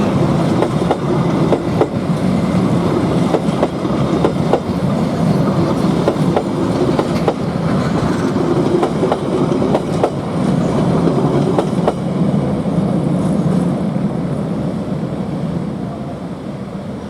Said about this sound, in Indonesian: Kereta api Prambanan Ekspres berpapasan dengan kereta api Pasundan.